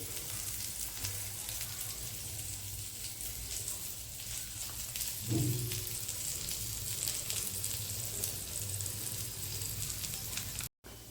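Curry leaves dropped onto paneer tikka sizzling in a pan, heard as a steady frying hiss with a brief louder crackle when the leaves go in, fairly faint and continuous with no talk.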